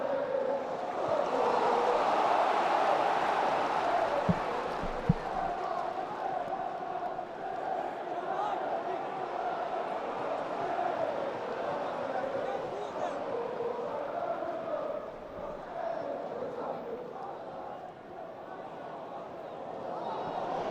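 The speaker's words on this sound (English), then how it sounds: "big cries again from the home crowd" A home crowd at a Leeds United football match against Sunderland lets out sustained cries, a broad distant roar that swells early and holds steady for the rest of the stretch, with a commentator talking over it.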